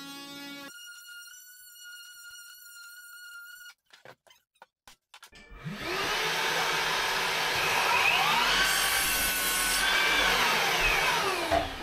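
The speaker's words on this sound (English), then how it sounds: "I'm just using my multi-tool to cut along the joist to take out the floorboard" An oscillating multi-tool cuts a floorboard along a joist, starting after a few brief knocks and tones, then buzzing loudly and continuously with a shifting pitch as the blade bites into the wood.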